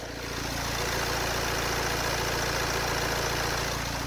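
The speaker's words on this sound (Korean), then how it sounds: "디젤 차량이지만 정말 정숙하고 규칙적인 엔진 사운드까지 잘 들려주고 있는데요" A Renault Samsung QM6 diesel engine idles steadily up close with the hood open, a low, even, regular rumble with a constant mechanical hum and no other sounds.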